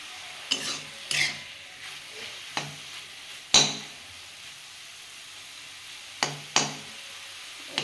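Mustard greens frying in a pan under a low, steady sizzle, broken by sharp scrapes and clinks of a spatula on metal every second or so, with no talk.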